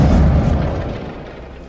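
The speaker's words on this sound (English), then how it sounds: "Whoops, that was a grenade." A grenade blast in the video game Mass Effect: one heavy, loud boom with a deep low-end punch that rolls away into a long fading rumble, no voices.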